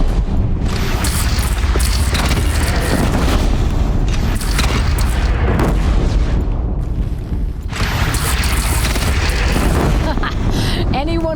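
Cannon fire in Horizon Zero Dawn, heavy booming blasts that keep rolling through a loud, dense battle scene, mixed in with talking.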